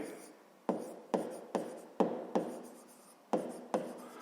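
Pen strokes scratch across paper during a fifth-grade maths exercise, a series of about eight sharp-onset scribbles that fade between strokes, close and fairly quiet.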